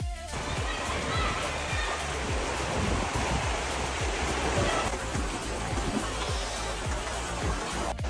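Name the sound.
river water flowing beside a trail in Mustang, Nepal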